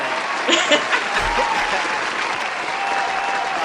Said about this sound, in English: Let me give you a round of applause for